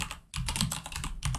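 Rapid clicking keystrokes on a computer keyboard, close and fairly quiet, in short uneven bursts with a brief pause near the start.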